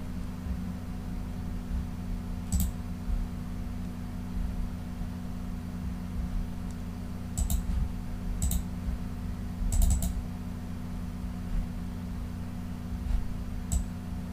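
Sparse, faint computer mouse clicks from editing work in Movavi Video Editor, a few isolated clicks and short double clicks spread across a quiet background hum, with no talking.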